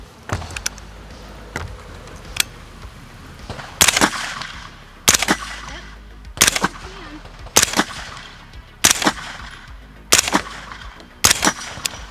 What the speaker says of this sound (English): I'll try a couple of shots.